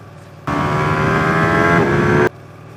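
A Ducati Panigale sportbike engine roars in close and loud, a steady sustained drone with a slight pitch shift near the end, starting and stopping abruptly over quiet wind.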